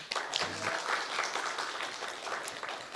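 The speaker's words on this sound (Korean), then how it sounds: "박수로." Audience at a Korean policy seminar clapping to welcome a session chair, a brief burst of moderately loud applause from a modest crowd, fading toward the end.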